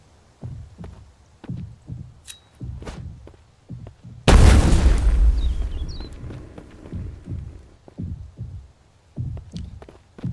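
A grenade blast in the Mist Survival video game: a sudden, loud, close boom that rumbles and fades over several seconds, preceded and followed by soft footsteps, with no one talking.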